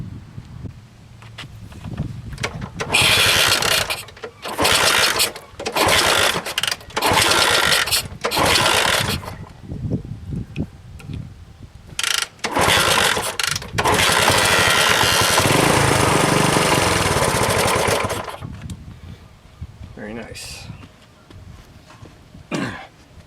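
A 1964 Honda S90 motorcycle engine coughing to life after gas is poured down the carburetor, sputtering in uneven loud bursts, catching briefly, dying, then running rough for a few seconds before cutting out.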